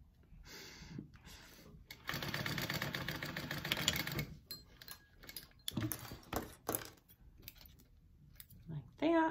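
Sewing machine stitching a handbag with a D-ring, a dense steady run of rapid needle clatter for about two seconds, then short bursts of stitching broken by pauses and handling noises.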